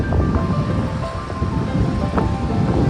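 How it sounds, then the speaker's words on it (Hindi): Sea waves washing onto Dahanu beach with wind rustling through coconut and casuarina trees, a steady broadband roar of surf and wind, loud and continuous without pauses. "यहाँ आप सिर्फ सुन सकते हैं लहरों की आवाज़ और हवा की सरसराहट"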